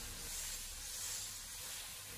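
Potato pieces pan-fry in a shallow layer of oil, giving a soft, steady sizzling hiss that stays even throughout the short stretch, with no talk over it.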